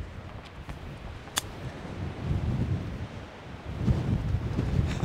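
Wind gusts across a golf course and buffets the microphone with a continuous low rumble that swells toward the end.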